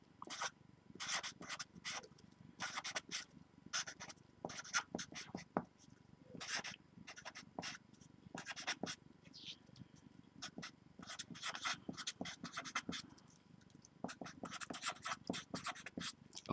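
Pen or pencil scratching across paper while an equation is copied out by hand, in quick bursts of close strokes with short pauses between them, over a faint room hum.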